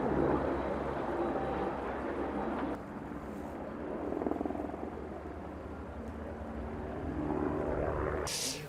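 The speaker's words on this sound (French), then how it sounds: "Ces moyens aériens, c'est 4 Canadair, 3 hélicoptères bombardiers d'eau et 2 Dash." Canadair water-bomber planes and firefighting helicopters flying over a forest fire near a village in southern France, a steady mid-distance engine drone that swells and fades as aircraft pass, with no talking.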